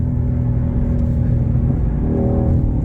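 A Ford GT500 engine revving hard in second gear, a loud, continuous deep rumble with a rising tone near the end.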